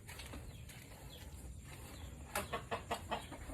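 Farm chickens cluck and squawk nearby, with a burst of louder, choppy calls toward the end over a low background hum.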